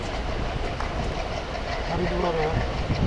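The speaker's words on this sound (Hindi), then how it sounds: "रुड़की रेलवे स्टेशन से डिपार्चर करती हुई इंटरसिटी एक्सप्रेस" The Haridwar–Sri Ganganagar Intercity Express departs Roorkee railway station with a continuous loud rumble of rolling wagons and faint rail clatter, joined late by a low horn-like tone.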